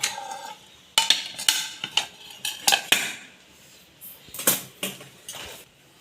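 A knife trims the edges off a bread cake, which is then tapped out onto a plate, giving close, irregular clinks, knocks and scrapes of metal on dishware, with no talking.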